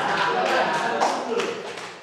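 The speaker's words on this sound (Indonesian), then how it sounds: "Tepuk tangan bagi kelompok 1." A classroom of students clapping for the first presentation group, a dense, steady patter of many hands close by, with voices mixed in underneath.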